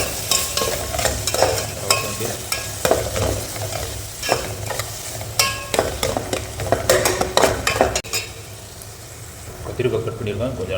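Sliced green chilies and cinnamon frying in oil in a pan, a steady sizzle broken by frequent scraping and clinking stirs, with a person talking over the cooking throughout.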